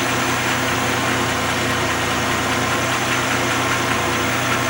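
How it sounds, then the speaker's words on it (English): A rough-running car engine, hooked to a Sun Modular Engine Analyzer 1500 for a power balance test, drones loud and steady at a near, unbroken idle. "the engine sounds crap"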